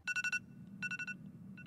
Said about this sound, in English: Oh my god, I hate that ringtone.